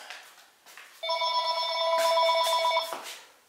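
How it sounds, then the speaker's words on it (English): A telephone rings in a pottery studio, a bright electronic trill lasting about two seconds between quiet room noise, heard close and alone. "oh, the phone's ringing."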